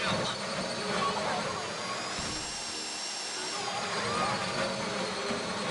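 In a Grand Theft Auto V heist, a drill whines continuously through the scene, its droning pitch shifting slightly mid-way, mixed with game ambience and voices talking over it.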